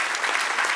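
A church congregation breaks into applause during a Spanish-language evening sermon, a dense, steady burst of clapping filling the room for a moment.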